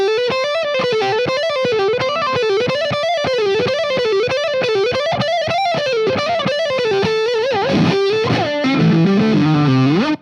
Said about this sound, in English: It's probably the most reliable possible repeating shred lick that you could play